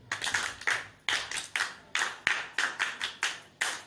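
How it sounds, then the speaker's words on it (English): A small group claps in a children's church class, about a dozen sharp, fairly quick claps in an uneven rhythm, close by with no voices over them. "Let's applaud him."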